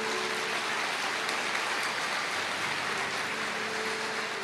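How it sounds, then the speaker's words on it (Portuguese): A church congregation applauds together in a steady, dense wash of clapping that fills the space evenly from start to finish, with no voices standing out. "Pode aplaudir o Senhor"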